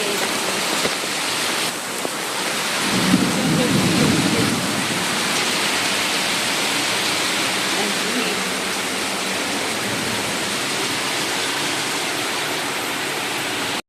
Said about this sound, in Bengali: ওরা কি বৃষ্টি নেমেছে।